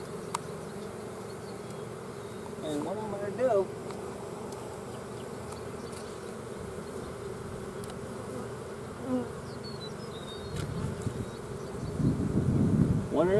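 Honeybees buzz steadily around an opened hive, a low, continuous hum with a few closer passes, while someone talks quietly in the foreground.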